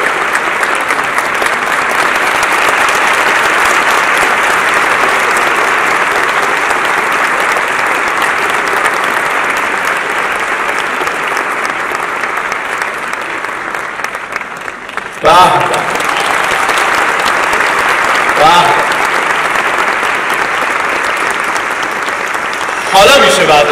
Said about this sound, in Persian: خیلی جانانه تر حتی میشه تشویق کرد خانم کاظمی